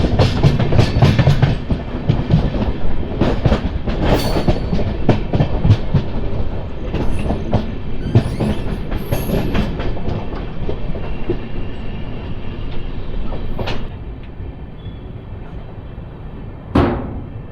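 The Charlapalli Superfast Express rolls along the tracks toward Renigunta and Tirupati, with loud rhythmic clickety-clack wheel beats over a steady rumble, fading slightly before a final sharp clank.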